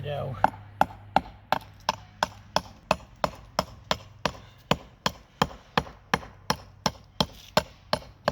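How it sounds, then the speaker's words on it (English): Steady rhythmic hammer strikes chipping the edge of a saw-cut flagstone, about two or three sharp clinks per second, repeating evenly and close by with no talking. "taking the hammer and removing these little chips of stone to return it to a natural looking edge."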